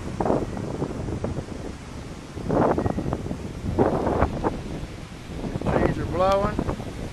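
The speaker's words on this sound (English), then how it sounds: "I know you can hear the wind." Gusty wind roars across the microphone during a summer hailstorm with lightning, swelling and easing in loud buffeting bursts, while a voice briefly sounds near the end.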